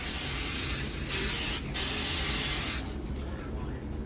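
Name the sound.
spraying cooking spray on meatballs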